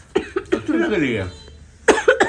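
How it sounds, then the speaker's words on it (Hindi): A few short, dry coughs up close, followed by a voice speaking briefly, then more coughing. "मेरा पता कैसी सूखी खांसी हो रही है"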